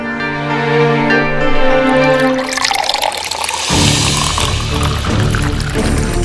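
Water is poured from a tap or jug into a glass for a visiting guest, a steady splashing, filling sound, close and fairly loud, with no talk.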